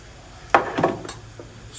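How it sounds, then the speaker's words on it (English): Pre-cooked lo mein noodles dropping into a pan with shrimp and sauce give a single soft clattering thud, a short scraping shuffle, then a faint tap in a quiet kitchen. "And now I just put in my lo mein noodles that we had pre-cooked."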